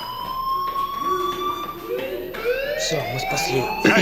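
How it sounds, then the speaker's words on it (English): A fire alarm in the Life is Strange video game wails with steady electronic tones, rising and overlapping as it sounds continuously; brief speech in Russian and English comes over it. "do you hear that fire alarm?"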